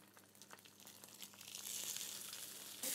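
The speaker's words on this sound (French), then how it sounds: "Je saisis les saumons à l'unilatéral" Salmon fillets sear skin-side down in a hot pan with a steady sizzle and crackle that grows louder and denser partway through.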